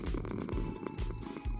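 Purring of a cat in Minecraft, a short looped series of low rhythmic rumbles, close and steady, repeating about four times.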